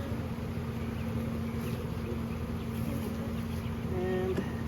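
Honeybees buzzing around an open hive during beekeeping while nucleus colonies are moved into ten-frame deep boxes, a steady, close, continuous hum with no talking.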